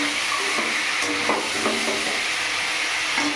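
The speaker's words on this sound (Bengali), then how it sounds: "এটা আস্তে আস্তে কষানো হোক।" Cauliflower and potato sautéing with cumin, ginger, tomato and green chilli in a pan, a steady close sizzle with a few faint stirring scrapes and no talking.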